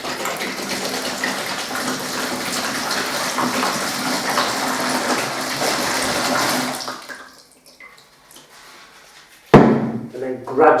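Water gushes steadily into a bucket for mixing a tanking slurry for a brick wall, a loud continuous pour that stops abruptly, followed by a clunk and brief talk.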